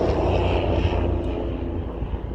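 A loud, close helicopter passing overhead fills the air with a dense, rumbling engine and rotor roar that stays steady and then eases slightly, with no talk.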